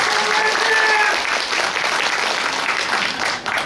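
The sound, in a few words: audience applause at general meeting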